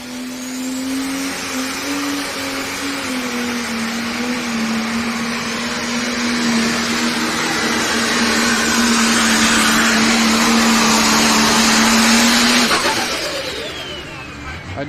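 A John Deere 7830 pulling tractor, 680 cubic inches and boosted to about 5,000 horsepower, roars at a tractor pull in Canton, Ohio. The engine holds a loud, steady drone that swells near the end, then fades off.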